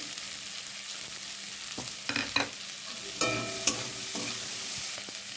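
Shrimp, garlic, onion and green chili sizzle in a pan for a Bengali taro-leaf dish, a close, steady hiss of frying broken by several sharp scrapes and clinks of a spatula stirring against the pan.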